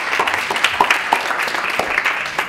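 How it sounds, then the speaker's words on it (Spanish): Light, scattered applause from a small group at a training session, a short patter of claps that fades quickly. "Fantàstico, un aplauso."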